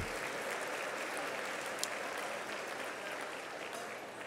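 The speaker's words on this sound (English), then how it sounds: "Give them a round of applause for their service." At a fellowship dinner, the audience gives sustained applause, a steady, even roar of many hands clapping that carries on throughout with no talking.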